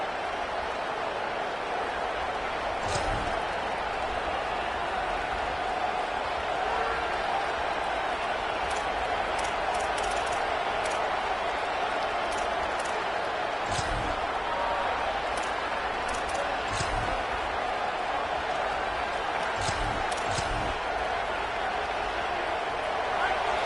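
Home crowd at a college football game roaring steadily as the defense tries to force a stop on third down, a dense sustained wash of cheering throughout with a few sharper bursts rising out of the noise.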